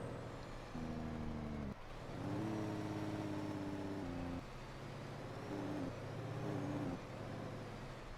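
Modded heavy truck in American Truck Simulator, its engine droning in steady harmonic bands that step up and down with throttle and Jake brake engagement, loud and continuous with a brief dip partway through.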